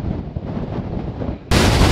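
Strong wind of around 50 mph buffets an open outdoor spot while camping in a storm, roaring against the microphone in rough, loud gusts that surge harder near the end.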